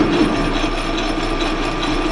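An Atlas lathe turns aluminum against a carbide insert tool, producing a steady mechanical whir with a faint grinding, clicking texture, continuous and close, with no voices.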